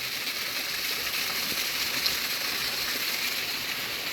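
Hurricane rain falls as a constant, even hiss of steady downpour that never lets up, with no voices.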